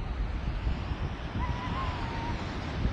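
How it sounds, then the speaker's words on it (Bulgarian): Waves wash onto the beach at Sunny Beach, Bulgaria, in a constant roar, mixed with gusty wind buffeting the microphone. "Тези дни малко е ветровито и има страхотни вълни."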